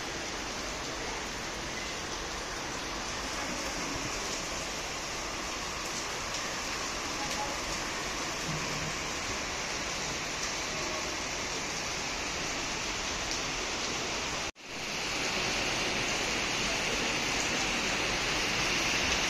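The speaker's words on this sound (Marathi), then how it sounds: "हे बघा, खूप स्पीडनी पाऊस येतोय, खूप।" Heavy, non-stop rain pouring down in Pune, a dense, loud, unbroken hiss of falling water that cuts out for an instant before resuming just as strongly.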